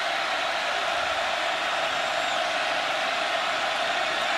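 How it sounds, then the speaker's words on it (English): Broad, steady roar of a football stadium crowd at an Oklahoma versus Baylor college game, constant and dense throughout with no single voice standing out. "Crowd, make a little bit of noise."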